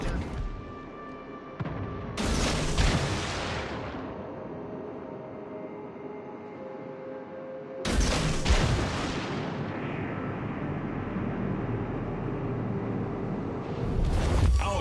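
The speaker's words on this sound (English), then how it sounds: "Concentrate fire on that enemy warship." Heavy warship guns fire in World of Warships Legends, three loud booming salvos spaced several seconds apart, each followed by a long rumbling decay, with a voice heard between them.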